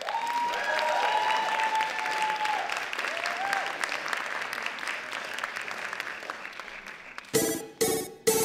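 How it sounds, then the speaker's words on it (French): Cosplay contest audience applauding steadily for about seven seconds, a dense continuous clatter of claps with some cheering, then cutting off into a few loud, close bursts of handling noise at the end. "Un tonnerre d'applaudissements, s'il vous plaît."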